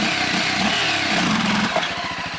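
A motorcycle engine is revved hard and held at high rpm by a nervous beginner attempting a wheelie, loud and close throughout, rising and dipping with a rough mechanical drone.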